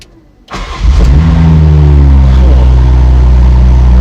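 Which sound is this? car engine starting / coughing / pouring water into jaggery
car engine starting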